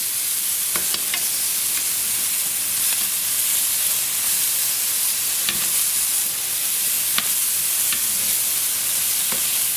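Sausages fry in a pan with a continuous loud sizzle while tongs flip them, leaving scattered sharp clicks over the crackling hiss.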